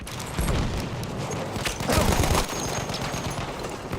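Battlefield 1 gunfire during the Brusilov Offensive, a dense barrage of rapid shots and bursts with a heavier boom near the middle, loud and continuous throughout with no talking.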